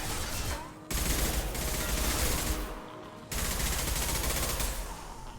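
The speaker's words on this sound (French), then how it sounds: "J'essaye de faire des tirs courbés à la Wanted" Dense, sustained gunfire in Mass Effect 2, a loud continuous barrage of rapid shots filling most of the stretch, with a brief dip before it surges again and carries on steadily to the end.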